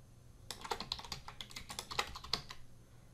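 A file name is typed on a computer keyboard, about two seconds of quiet, irregular close-up keystroke clicks with a faint steady background hum.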